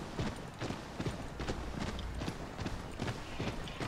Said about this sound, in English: Ah, nice calming jog with a horse.